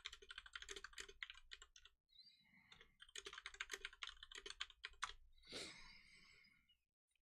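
Rapid, close clatter of keys on a computer keyboard comes in dense bursts with a short pause near the two-second mark, and a soft sigh or breath is heard toward the end.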